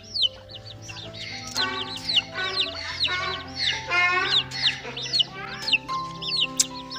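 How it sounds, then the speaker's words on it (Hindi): Several hens cluck and chatter busily at close range, a continuous overlapping flock sound with occasional sharper calls. "अपने मुर्गियों को भी डालते हैं"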